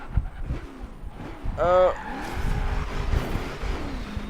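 A Ford Mustang on race tires spinning out in Forza Horizon 3, with a short sharp tire squeal over steady engine noise and game sounds, heard at a moderate level.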